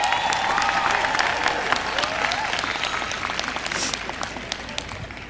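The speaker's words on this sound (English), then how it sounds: "Let's clap it up for them." A large crowd at a university graduation ceremony applauds, a dense roar of clapping with scattered sharp claps and a few cheers, fading slightly as it continues, with a voice faintly underneath.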